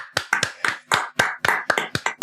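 Quick series of about a dozen sharp hand claps, close and fairly loud, ringing out alone in a small room.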